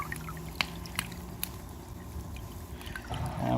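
Water pours and trickles steadily out of a hose on a homemade pool heater, a soft continuous splashing flow with a few brief clicks and a louder gush building near the end.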